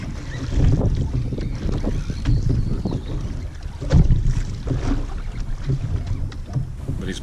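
A fishing boat rocked by surf while a big fish pulls it backward, with continuous low rumbling water and wind buffeting and irregular thumps as waves strike the hull, heavier slaps around the middle.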